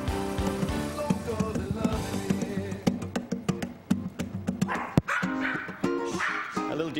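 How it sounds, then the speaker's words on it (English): A dog barks and yips along with a man singing, mixed in with music; the sharp barks come in short bursts over the melody. "A little duet with me and the doggy, Zorro"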